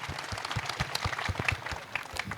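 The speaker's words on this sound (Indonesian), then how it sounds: "tepuk tangan buat RG, Rocky Gerung." Audience applause for Rocky Gerung at a panel discussion on reform, a steady patter of clapping with a few louder low thumps, moderately faint and continuous without talk.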